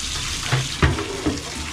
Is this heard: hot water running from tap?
yes